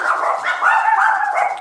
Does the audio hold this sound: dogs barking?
yes